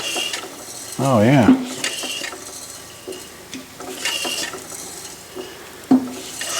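A Fairbanks-Morse Z style C engine is turned over, giving hollow mechanical clunks and scraping knocks at a slow uneven pace, with a man's brief exclamation near the start.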